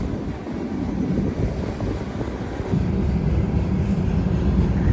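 Freight train rolling across a railway bridge, a continuous low rumbling roar with wind buffeting, growing slightly louder partway through and heard from a distance without speech.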